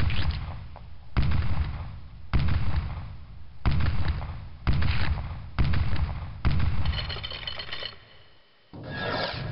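Gunfire from a gun in the Deathtrap Dungeon video game, seven loud heavy shots spaced about a second apart, each a sharp blast trailing into a short rasping decay, followed by a brief lull and one more burst.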